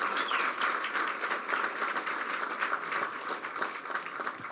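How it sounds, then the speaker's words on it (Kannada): Steady applause from an audience greets a film personality's remarks, a dense even patter of many hands carrying on throughout at moderate distance with no one speaking over it. "ಬರಲಿ ಚಪ್ಪಾಳೆ"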